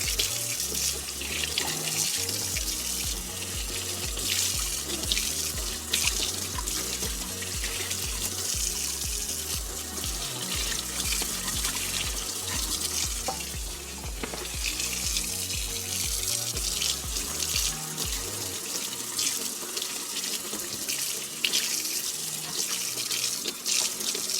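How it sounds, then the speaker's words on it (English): Tap water runs steadily into a sink to rinse a repotted Monstera Albo plant, a continuous close splashing stream that lasts throughout with small shifts in flow. "just like to give everything a really good rinse, like when I repot it"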